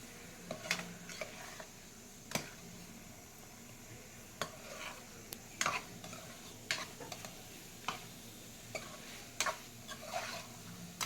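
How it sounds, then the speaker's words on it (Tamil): Chicken frying and being stirred in masala for a chicken kulambu, heard as quiet, irregular spatula scrapes and ticks over a faint, steady sizzle from a pan. "இந்த மசாலாக்குள்ளே நல்லா ஒரு 10 நிமிஷம் வதக்கணும்."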